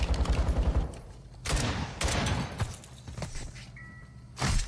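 Bursts of automatic gunfire from a big machine gun in a shooter game set in Building 21, loud and dense with short pauses between volleys, layered with other game noises.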